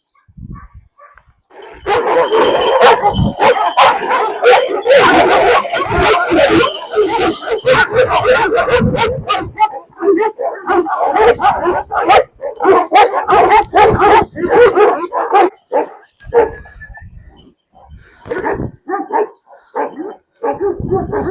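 A large, heavy-built Kangal dog barks loudly and repeatedly nearby in bursts, with people talking around and between the barks and the barking thinning out toward the end.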